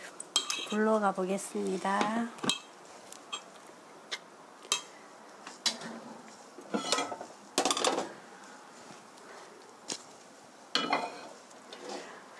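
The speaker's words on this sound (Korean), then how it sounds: "다 됐으면 반죽을 골고루 섞어서" A utensil mixes mashed potato and tuna croquette batter in a bowl, making scraping, clinking strokes in irregular bursts close by. A voice briefly speaks at the start.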